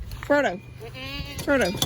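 Two loud, wavering bleats from a goat near the microphone on a farm where goats eat mulberry leaves and berries, separated by a short pause with faint background noise.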